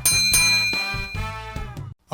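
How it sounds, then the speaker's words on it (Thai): A series of bright metallic dings ring out one after another, each with a shimmering tail, before cutting to silence. "กดกระดิ่งด้วยนะครับ"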